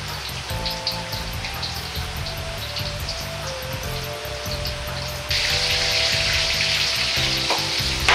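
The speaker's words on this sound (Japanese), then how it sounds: "火を弱火にしてじっくり時間をかけて揚げていきます。" A pork cutlet for Chinese-style katsu curry deep-fries slowly in oil over low heat, giving a steady crackling sizzle that grows denser and louder partway through, with no voices.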